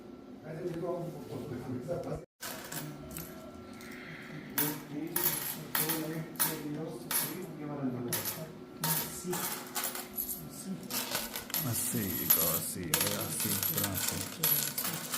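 Coins poured and counted at the counter of an Uttarakhand Gramin Bank branch in Chandnagar, with repeated metallic clinks and jingling bursts over a busy room of overlapping conversation.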